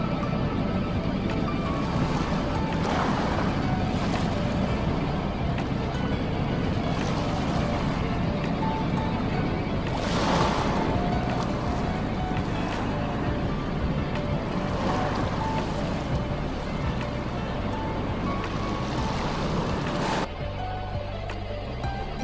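A boat rides out on the open sea, its hull slapping through waves while wind buffets the microphone in a steady rushing wash, with a few stronger surges of spray rising and falling at intervals.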